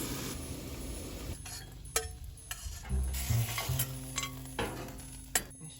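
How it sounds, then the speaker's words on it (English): Two very large sausages simmer in tomato sauce in a pan inside a camper van, giving a soft, steady bubbling sizzle with occasional sharp ticks and pops, close by with no talking. "and a couple of very large sausages. More than I should be eating, but whatever. Simmering now in tomato sauce."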